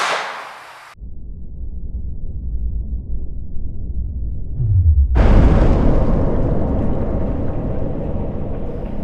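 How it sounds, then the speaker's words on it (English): A loud, sustained roaring blast from a gunpowder-loaded shot follows a brief burst, with a low rumbling swell building into a long, broad rushing noise that lingers to the end. "Okay, it didn't explode as much."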